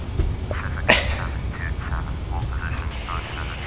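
A fixed-wing aircraft taxis in the Prepar3D flight simulator, its steady engine hum running under a voice, with a brief click and faint higher tones.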